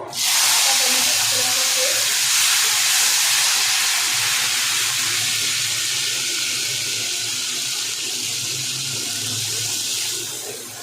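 Food dropped into hot oil while cooking a vegetarian pointed gourd (potol) recipe: a loud, continuous sizzling hiss starts abruptly and holds steady for about ten seconds, with no talking.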